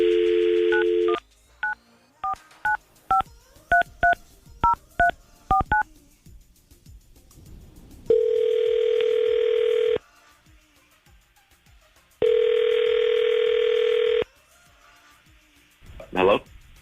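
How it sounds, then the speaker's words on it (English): Telephone keypad dial tones beep in a quick run of short pulses, with a steady dial tone holding before and between them and two long ringback tones following, heard up close as a call is placed, with no speech. "we're going to try to go ahead and call Will right now and see if we can get him on the phone"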